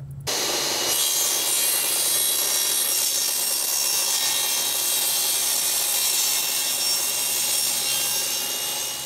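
A power saw cuts through 3/8 inch wood boards, starting abruptly after a brief quiet moment and then running as a loud, continuous, harsh buzzing rasp that holds steady to the end.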